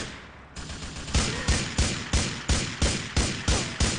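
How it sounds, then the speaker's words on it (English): Repeated gunshots in GTA 4 multiplayer, a steady series of sharp, loud shots fired at regular intervals, roughly two per second, with no talk over them. "What's shooting at me?"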